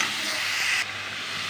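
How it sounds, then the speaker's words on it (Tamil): Mashed tomatoes sauté in a hot pan for a vegetable biryani, giving a loud, steady hiss and sizzle that drops suddenly partway through and continues more quietly. "தக்காளி வதங்கட்டும்."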